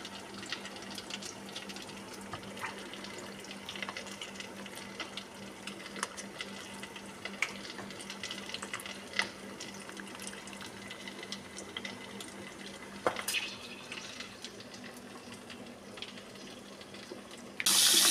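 Cold tap water runs steadily into a sink to stop freshly harvested food from cooking further, a continuous faint splashing rush with a low hum underneath throughout.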